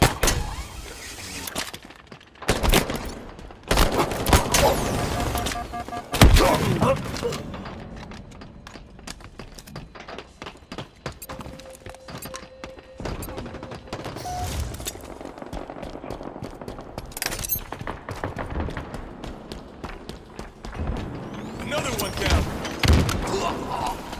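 Rapid machine gun bursts and scattered gunshots ring out in a Halo Infinite multiplayer match, loud and repeated in clusters with explosive booms, over dense game action and intermittent voice lines.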